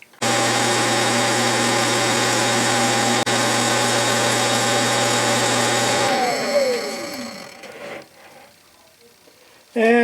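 A Bridgeport milling machine takes a final pass on a C-clamp part, a loud steady motor and cutting whine running unbroken for about six seconds, then winding down and trailing off to near quiet before a brief thump at the end.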